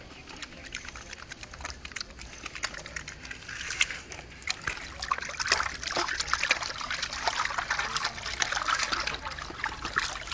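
Water trickles and splashes steadily while hands are washed with soap, a close, continuous dribble with small splatters throughout and no talking.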